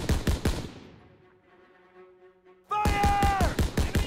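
Gunfire in the World War II shooter Call of Duty WWII, with loud rapid bursts of shots at the start, a quieter lull, then renewed heavy firing alongside a sustained tonal wail.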